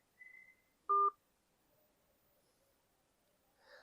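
A telephone keypad sends a single short, loud dialing tone during a call to an automated service line, following a fainter beep; the rest is near silence.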